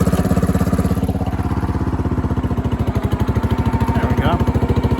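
A Power King garden tractor engine runs steadily in third gear while pulling a 3,000-pound load of top soil, giving a loud, close, rhythmic chugging with a fast, even firing pulse and some clatter throughout.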